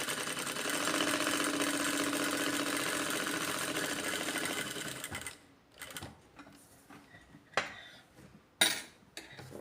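An electric sewing machine runs a steady practice stitch through fabric for about five seconds with a continuous mechanical whir, then stops, leaving scattered handling clicks and thumps.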